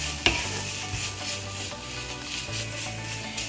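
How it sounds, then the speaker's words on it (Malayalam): Coconut being stirred while it roasts in a pan over a medium flame, a steady scraping stir over a soft continuous sizzle with a sharp knock near the start; no voices. "സോ മീഡിയം ഫ്ലെയിമിൽ വെച്ചിട്ട് വേണം ഇളക്കാൻ"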